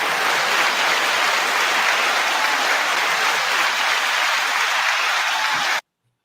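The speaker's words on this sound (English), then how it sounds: "9-second applause." An audience at a hip-hop event gives steady, loud applause that holds for several seconds with no voices over it, then cuts off abruptly.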